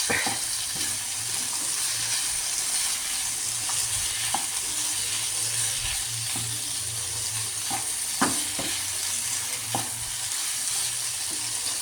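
Chicken pepper fry sizzles in hot oil with a constant crackle. Occasional clinks and scrapes of stirring are heard close up, with no talk.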